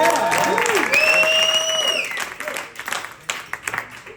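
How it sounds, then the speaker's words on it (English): Audience applause at a Chicago blues club, clapping and cheering that swells and then tapers into scattered claps, with a voice calling out over it early on. "give him a round of applause"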